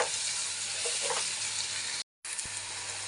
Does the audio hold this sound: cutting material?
no